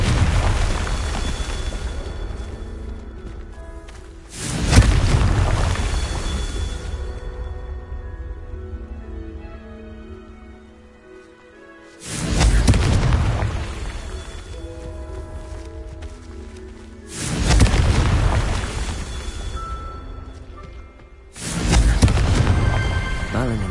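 Confringo fire spells explode in the Hogwarts Legacy video game, four heavy booming blasts spaced several seconds apart, each loud and sudden, then tapering into a rumbling tail over a quieter musical game backdrop.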